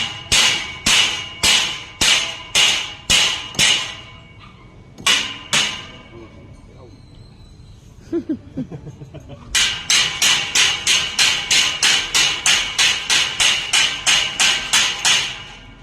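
Sharp, loud hammer blows during gate installation, struck in steady rapid series, then a pause with faint sounds, then another long run of even strikes close by.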